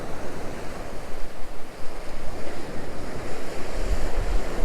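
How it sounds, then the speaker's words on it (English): Wind swirling on a beach while fishing for mulloway, a steady broadband roar mixed with surf and low gusty rumbles, loud and continuous with no talk. "Wind swirling around now,"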